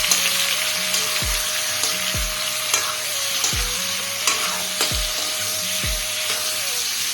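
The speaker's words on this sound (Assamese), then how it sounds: "গাহৰিটো ভাজি ল'ব লাগিব অলপমান" Pork pieces frying in oil in a pan while cooked Naga style, a continuous close sizzle broken by repeated scraping stirs of a spoon against the pan, with no talking.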